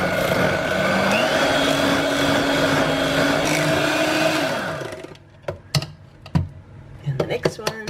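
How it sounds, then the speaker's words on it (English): Electric mixer whisking eggs into low-carb, sugar-free cheesecake batter: a steady motor whir for about five seconds, then it stops, followed by scattered clinks and knocks of the bowl and utensils. "And just whisk in all 4 until they're all nice and smooth."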